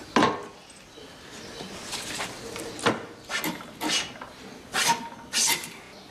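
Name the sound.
hand tool worked along a wooden plank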